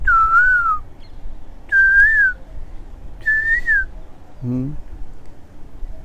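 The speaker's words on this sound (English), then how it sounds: "Now the kokilas have started to sing." Koels singing at Ter Kadamb: three clear, rising-and-falling whistled calls spaced about a second apart, fairly close and loud, followed by a short low cooing note.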